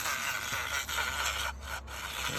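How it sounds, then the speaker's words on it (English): Dremel rotary tool grinding a plastic part for a homemade quail feeder, a steady close buzzing rasp that runs throughout with two brief dips near the end. "Alright, so now I gotta Dremel this again."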